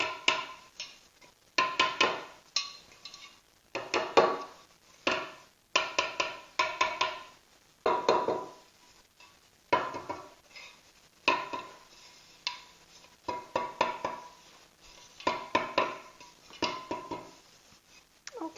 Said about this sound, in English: try to make sure the flour coats the pan really well, and then try to take the excess flour out of the pan